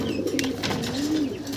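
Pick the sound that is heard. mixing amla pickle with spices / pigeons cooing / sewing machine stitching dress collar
pigeons cooing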